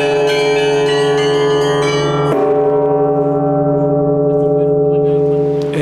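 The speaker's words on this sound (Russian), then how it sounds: "где Сергей Михайлович ударил благовест, самый большой колокол звонницы собора Александра Невского" The largest bell of the belfry at Alexander Nevsky Cathedral in Volgograd rings loud and close, its rich humming tone sustained, then struck again about midway with a fresh clang that hangs and slowly fades.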